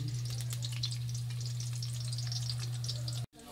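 Garlic sautéing in a pan for ginataan, a steady crackling sizzle of frying oil with a constant low hum beneath, close and even throughout before a brief cut near the end.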